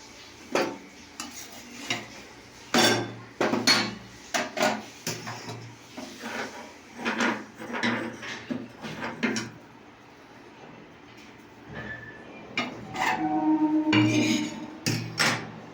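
Vegetables are strained through a metal mesh strainer in a pan, producing irregular clanks, scrapes and clinks of metal on metal, close up with short pauses between bursts and no talking.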